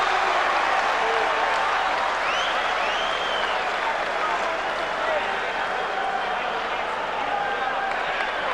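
Boxing crowd at a heavyweight bout between Lennox Lewis and David Tua, heavily favouring Tua, roars and applauds in a steady, dense wash of cheering that holds at full loudness throughout.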